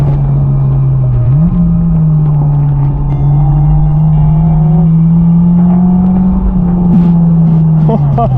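Honda S2000 sports car driving hard on winding backroads, its engine a loud, constant drone heard from inside, rising and dipping in pitch as it shifts and pulls through curves.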